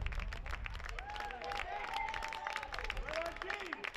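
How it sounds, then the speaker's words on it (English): A crowd at the Geelong Baseball Centre applauds after a home run, steady scattered clapping heard from a distance under a commentator's voice, with a few whistles rising through it. "And well should those at the Geelong Baseball Centre give a round of applause"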